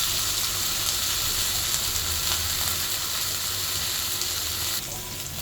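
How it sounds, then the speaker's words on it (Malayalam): Fish fries in a pan at home, giving a steady, close, loud sizzle with faint scraping and clinking from a spoon and no talking. "അങ്ങനെ ഫിഷ് ഫ്രൈ ശരിയായിക്കൊണ്ടിരിക്കുവാണ്."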